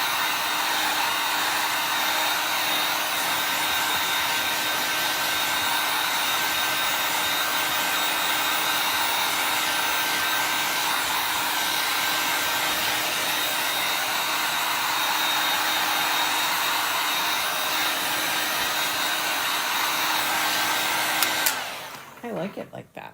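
A handheld heat tool blows steadily over a chalk paint transfer to dry it, a loud, continuous airy whir held for about twenty seconds before cutting off abruptly near the end.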